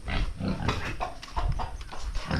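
Pigs on a small farm grunting and snuffling in a close, continuous jumble of overlapping low grunts and squeals, fairly loud with no talk.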